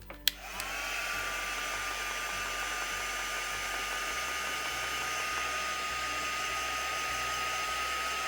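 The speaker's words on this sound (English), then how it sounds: "I'm going to just give this a bit of a heat set because we're on the gessoed finish, it's not drying immediately" A heat tool switches on with a click and blows steadily, a constant airy whir held for several seconds while drying ink on a gessoed art surface, with no voices.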